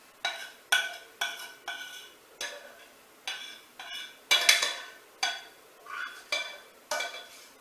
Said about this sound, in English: So I'm going to put the meat over the chips.